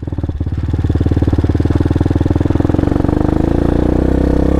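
An X-pro Vader Honda clone motorcycle engine runs steadily, a loud close rhythmic thumping idle that builds slightly and holds an even throbbing pulse throughout, with no voices.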